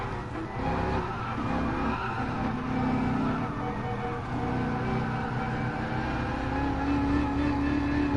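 Cars drifting in the Drive Club racing game, with continuous engine roar and sustained tire squeal and skidding, loud and unbroken throughout.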